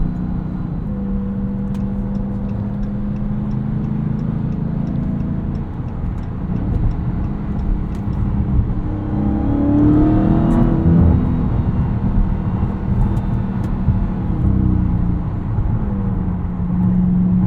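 A 2023 Dodge Charger Hellcat Widebody Jailbreak's deep, loud 6.2-liter supercharged V8 rumbles steadily, swelling as it accelerates midway with a throaty surge, then settling back to a strong cruising drone.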